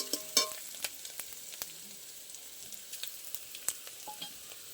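Ginger paste fries in oil in a pan, a soft, fairly quiet sizzle with occasional small pops and light stirring clicks, no talking.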